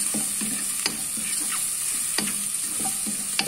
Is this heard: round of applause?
no